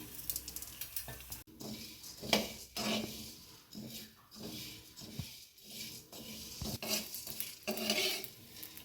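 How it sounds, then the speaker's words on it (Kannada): Cumin and black pepper dry roast in a pan, with repeated scraping stirs and clinks of a utensil against the metal and a light sizzle, in an uneven rhythm of short strokes. "ಅದೇ ರೀತಿ ಜೀರಿಗೆಯನ್ನು ಹಾಕ್ತಾ ಇದ್ದೇನೆ ಹಾಗೂ ಒಳ್ಳೆಮೆಣಸನ್ನು ಸಹ ಹಾಕ್ತಾ ಇದ್ದೇನೆ. ಇದನ್ನು ಒಟ್ಟಿಗೆ ಹುರ್ಕೊಳ್ಳುವ."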